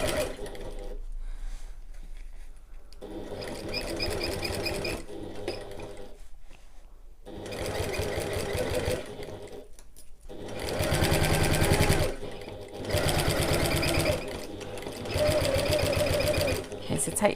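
A sewing machine back stitches along a bag seam, running in loud bursts of rapid needle stitching separated by short pauses, with a voice talking in between the runs.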